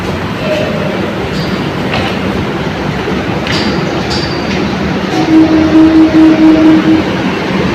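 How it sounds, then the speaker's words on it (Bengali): Inside a Kolkata metro train car, a deep, continuous rumble and wheel clatter fill the space with occasional sharp clicks. A thin steady whine rises near the end. "মেট্রোতে উঠেও পড়লাম। দাঁড়িয়েছিল মেট্রো"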